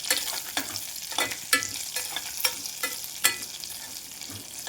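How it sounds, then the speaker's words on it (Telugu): Chopped dry red chillies frying in oil for a spicy Rayalaseema chilli dal, with a steady sizzle broken by regular stirring scrapes about every half second, close and moderately loud, no talking. "చక్కగా ఈ ఎండుమిరపకాయలు కట్ చేసుకున్న ఎండుమిరపకాయలు కూడా ఈ నూనెలో బాగా వేపుకోవాలి"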